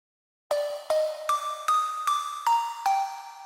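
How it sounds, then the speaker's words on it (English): Bell layer in a song, made with a mixed bowl: seven bright metallic strikes in a steady rhythm, each ringing clear tones that shift pitch from note to note, sounding alone. "There's a bell layer here."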